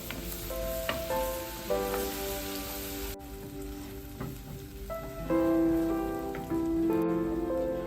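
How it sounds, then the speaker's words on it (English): Ginger garlic paste sizzles in hot oil and butter as it sautés for a chicken curry, a continuous close crackle and hiss with occasional tonal clinks from utensils and no voices. "Add a spoonful of ginger garlic paste and saute till the raw smell goes"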